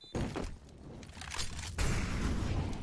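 Incendiary grenade landing and igniting in a Counter-Strike IEM Katowice qualifier match between Cloud9 and MIBR, a dense burst of thuds, crackling fire and overlapping gunfire filling the scene, with a louder surge near the end.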